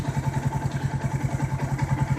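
A Zontes motorcycle engine idles steadily close by at around 1000 rpm with the choke in use, a rapid, even thumping pulse with mechanical clatter.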